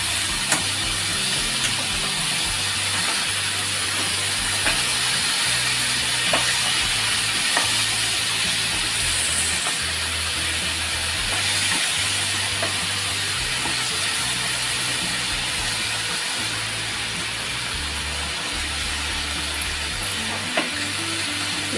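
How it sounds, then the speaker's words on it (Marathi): Traditional Maharashtrian mixed vegetable bhaji is stirred in a pan, with a steady close sizzle and hiss of frying running throughout and soft scraping strokes of the spoon, with no talk. "आता हे आपण व्यवस्थित मिक्स करून घेऊया."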